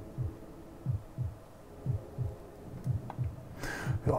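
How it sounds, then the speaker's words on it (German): Slow, steady heartbeat from the Amiga game Populous, with low thumping pulses repeating at a relaxed pace over a faint hum, and a brief noisy burst near the end. "der Herzschlag ist ganz entspannt"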